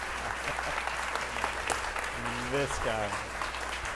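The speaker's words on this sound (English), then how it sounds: "please join me giving another round of applause to Adam and Pete for being here tonight." Audience at a book launch gives a sustained round of applause, loud and even throughout, while a voice speaks briefly over it.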